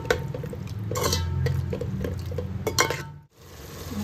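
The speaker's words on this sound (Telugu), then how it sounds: "ఇదంతా బాగా కలిసేలా కలుపుకున్నాం" Spices and homemade biryani masala being stirred in a pan for paneer dum biryani, with a steady scraping of the spoon against metal, light clinks and a soft sizzle throughout, close and moderately loud, with a brief pause near the end.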